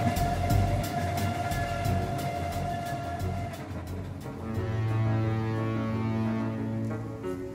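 A train running on rails in an audio drama, a steady loud rumble with rhythmic clacking and a sustained mechanical hum throughout, no voices.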